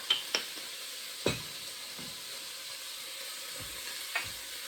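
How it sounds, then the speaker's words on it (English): Stew meat searing in a pan over high heat, a soft, steady sizzle with a few light clinks and stirring bumps, fairly faint and without voices. "All I want to do is sear all sides of it."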